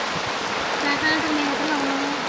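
Heavy night rain pours down in a dense, continuous hiss that stays loud and even throughout, with a faint tonal sound drifting in the background.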